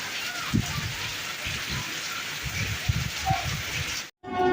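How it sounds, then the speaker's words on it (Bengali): Steady rain patters on a surface near a village shed, a continuous close hiss with faint scattered drops and brief low voices in the background. "বৃষ্টি হচ্ছে বলে আমি আবার ক্লাবের দিকে চলে যাচ্ছি"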